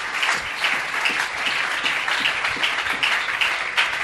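A church congregation bursts into steady, dense applause during a sermon, the clapping filling the space evenly throughout with no voice over it.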